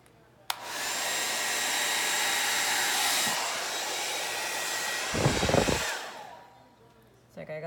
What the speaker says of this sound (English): let's see what happens with the hair dryer